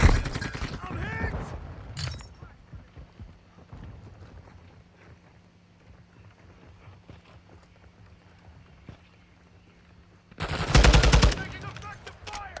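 Gunfire in the shooter Call of Duty Modern Warfare II, heard as a dense close burst at the start, then scattered distant shots under a low ambient rumble, and another loud close burst near the end.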